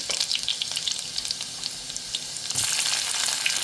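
Garlic and coriander frying in a pan for a Konkani-style prawn and potato curry, giving a steady close hiss and crackle of hot oil that swells louder near the end, with no voices.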